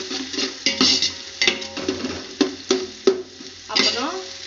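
Sliced onions fry in a pan for biryani, a steady loud sizzle broken by repeated scraping strokes of a spoon or spatula against the metal, close up, with no talk.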